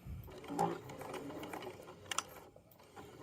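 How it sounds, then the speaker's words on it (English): Sewing machine stitching a raglan sleeve seam on a hoodie, short bursts of mechanical whirring and needle clatter, fairly quiet and close, with no talking. "I'll just go forward 3 stitches and then backward 3 stitches, and I'll go down the entire seam."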